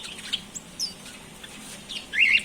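Budgerigars in a bird shop chirp in short, scattered bright tweets and squeaks, fairly close, a busier cluster of calls near the end, with no talking.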